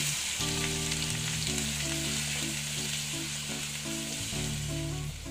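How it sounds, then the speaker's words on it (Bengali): Onions fry with whole garam masala and spice powder in a pan for a soya chunk and potato curry, giving a steady, dense sizzling hiss that stays close and even throughout, with a faint low hum beneath. "দেখো, পেঁয়াজটা আমি ভেজে নিচ্ছি।"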